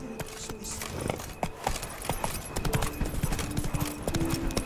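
Hooves of Roach, Geralt's horse in The Witcher 3: Wild Hunt, clip-clop steadily across the ground in a game scene, with sharp, irregular hoof strikes over ambient background and a faint jangle of tack.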